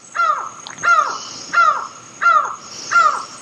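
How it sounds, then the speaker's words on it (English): An unidentified, very vocal bird calls outdoors with five loud, harsh, evenly spaced squawks, each sweeping down in pitch, close by and standing clearly above quiet background air. "I have no idea what that bird is. It's very vocal."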